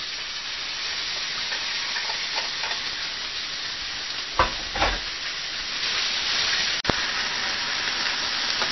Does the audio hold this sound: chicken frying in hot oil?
yes